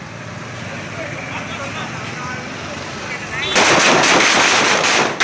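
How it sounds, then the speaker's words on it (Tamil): A voice talks over background noise, then a dense, loud volley of firecrackers bursts in rapid crackling succession for the last couple of seconds, set off at a celebration in Bhuvanagiri. "புவனகிரியில் பட்டாசு வெடித்து கொண்டாட்டம்"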